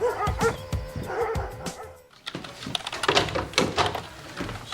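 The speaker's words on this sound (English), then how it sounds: "security let out the dogs." Dogs let loose by security bark and yip in quick, loud bursts close by, with brief whimpers among them, a short pause, then more overlapping barking.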